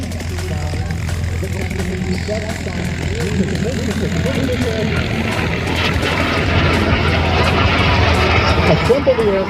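A mini jet kit aircraft performs in an air display at Truckee Tahoe, its steady engine roar holding throughout with a spoken commentary over it.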